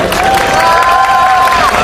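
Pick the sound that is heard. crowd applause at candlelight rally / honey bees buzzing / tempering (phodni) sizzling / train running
crowd applause at candlelight rally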